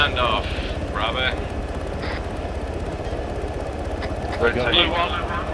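A helicopter engine in the video game Arma 3 drones with steady rotor chop throughout, loud and continuous, while people talk over it on voice chat.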